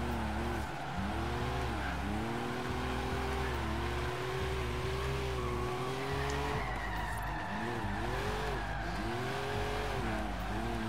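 A GMC Cyclone in Forza Horizon 3 spins out with loud, sustained tire skidding over a steady droning engine, the screech wavering as the truck slides and rotates.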